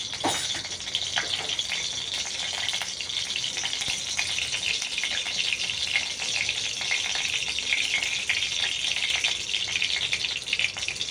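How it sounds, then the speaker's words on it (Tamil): Steady crackling sizzle of fenugreek seeds frying in hot oil for sambar, close and continuous for several seconds, with no voices. "வெந்தயம் பொரிய ஆரம்பிச்சிருச்சா?"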